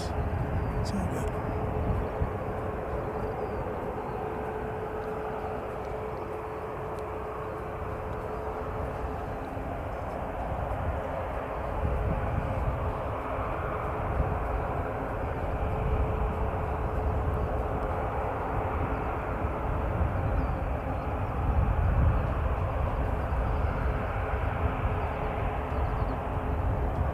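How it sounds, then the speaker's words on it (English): An Airbus airliner passes overhead as a steady, broad engine roar that holds throughout, with a faint tonal hum running beneath and no talk. "and now we're getting this Airbus"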